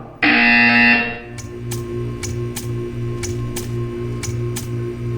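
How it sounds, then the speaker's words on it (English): A harsh electronic buzzer in the video game Portal 2 blares for about a second, loud and close, then gives way to a series of sharp, evenly spaced clicks over a low steady hum. "You will hear a buzzer"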